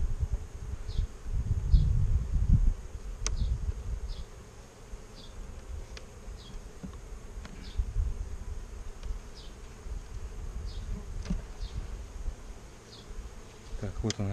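Honey bees buzz around hive frames being shaken out at an apiary, a steady droning hum with individual bees zipping past close by, plus low handling rumbles and occasional knocks.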